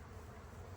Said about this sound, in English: I saw a bee flying out here.